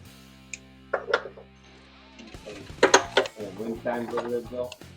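A ratchet wrench works on long-tube headers on a New Edge Ford Mustang, giving close, irregular metallic clicks, clanks and ratcheting bursts, with a few faint voices in the background.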